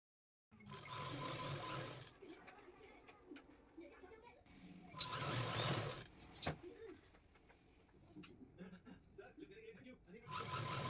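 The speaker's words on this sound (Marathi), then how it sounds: "इथे शिलाईवरती व्यवस्थित शिलाई ठेवायची आहे आणि वरून शिलाई मारत जायचं आहे" A sewing machine runs steady stitching passes on a gown, whirring continuously with two louder surges, while a voice talks over it throughout.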